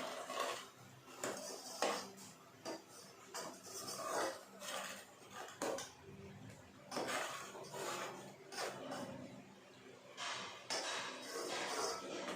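Milk with cardamom and bay leaf is stirred in a pot, a quiet run of repeated scraping and light metallic clinks of a spoon against the pot at an uneven, unhurried rhythm, close and faint.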